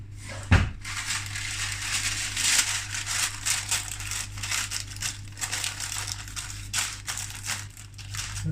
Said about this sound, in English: I'm going to put a piece of parchment paper in the